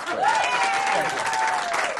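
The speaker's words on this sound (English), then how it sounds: "Give him a big round of applause," Applause from a magic show audience, a dense burst of clapping close to the mic with crowd noise, while someone speaks briefly over it.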